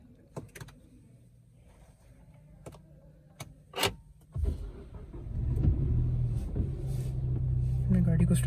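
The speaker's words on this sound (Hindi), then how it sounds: "मैंने गाड़ी को स्टार्ट किया" A Peugeot 2008 Allure is started with its push-button start-stop switch: a few sharp clicks, then the engine cranks and settles into a steady, close, low idle rumble.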